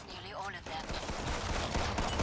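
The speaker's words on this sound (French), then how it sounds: "Je suis vraiment pas fan du bruit qu'il fait, le flingue." A gun fires in Killing Floor 2, a dense, continuous rattle of rapid shots at moderate level with a voice speaking faintly beneath.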